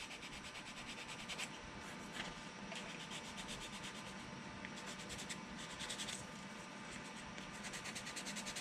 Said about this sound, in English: I'm just going to go ahead and scuff them down here and clean those up a little bit before we put it in